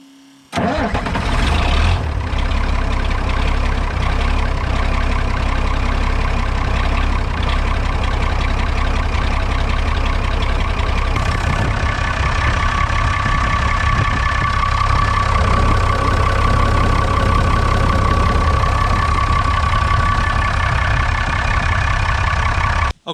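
A Pettibone crane's engine idles with all cylinders firing after a soot cleanout of the exhaust ports, a steady, close mid-pitched rumble that settles into an even running note, with no talk over it.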